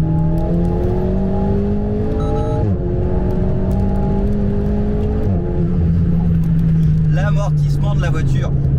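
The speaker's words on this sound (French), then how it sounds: "On rétrograde, troisième c'est bien." Alpine A110 GT engine droning steadily after a downshift to third gear, its pitch stepping as revs shift, loud and close from inside the car, with someone talking over it.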